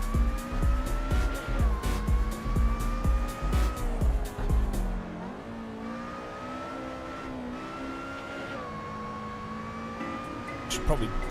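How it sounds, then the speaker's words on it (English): A race car engine in a sim racing video game revs loud and close, its pitch climbing and dropping through gear changes and settling into a steadier drone, with faint tire noise. "Should probably change the engine sound for this car."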